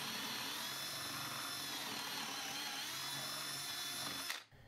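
A power drill bores a hole into a post for a stainless cable railing lag tensioner, giving a steady, sustained whir for over four seconds that ends abruptly, heard fairly quietly with no talking.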